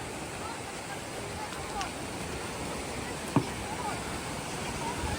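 Steady broadband rush of fast-flowing water, loud and continuous throughout, with a brief sharp knock near the middle and no clear voices.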